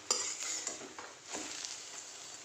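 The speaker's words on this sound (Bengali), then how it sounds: "আর এদিকে একটু ডিম ভেজে নিচ্ছি" An egg frying in a pan gives off a steady, quiet sizzle with a few soft clinks and stirring scrapes near the start, and no talking.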